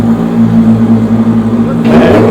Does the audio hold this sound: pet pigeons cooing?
no